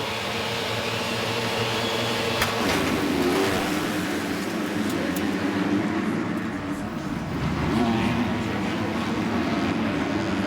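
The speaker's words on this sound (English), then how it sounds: "They're so deep into the throttle, coming to the ski jump." Dirt bikes race in the Supercross West Lites main event in Las Vegas, a dense roar of high-revving engines held wide open, with a commentator talking over it the whole time.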